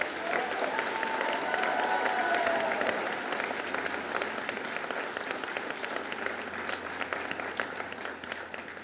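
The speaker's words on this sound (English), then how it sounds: "Let's give them a big round of applause." A crowd at an eighth grade bridging ceremony applauds graduating students with loud, dense clapping and a little cheering early on, thinning gradually into scattered claps toward the end.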